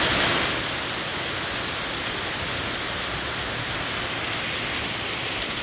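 Torrential summer flash-storm rain pours onto leaves in a dense, steady hiss that stays loud and unbroken throughout, with no voices.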